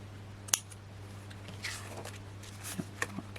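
Scissors cutting paper at a crafting table, a few sharp, close snips spaced irregularly over a quiet background with a steady low hum.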